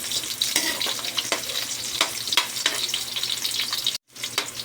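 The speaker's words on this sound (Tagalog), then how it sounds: "Lagyan natin yung ating sibuyas mga lods. Medyo mapula-pula na siya." Sliced onions frying in a pan for a Filipino home-cooked dish, a continuous close sizzle with repeated scraping stirs, broken by a short silent gap near the end.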